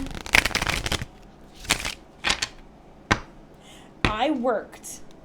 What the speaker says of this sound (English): That is the riffle shuffle, like I mentioned earlier.